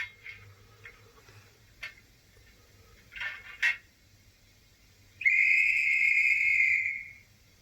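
A model steam locomotive's single shrill whistle blows steadily for about two seconds after a few faint ticks and clicks in a quiet setting.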